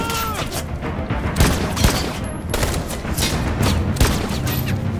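Gunfire in Detroit: Become Human, a rapid fusillade of loud shots crackling throughout with heavy thuds between bursts, close and relentless for several seconds.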